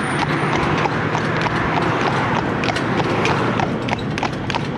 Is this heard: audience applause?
no